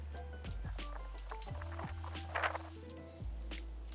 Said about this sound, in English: Just gonna go ahead and give it a nice soak.